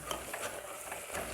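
Mutton curry masala frying in a pan, a steady soft sizzle with faint stirring scrapes throughout, close and even, no voices.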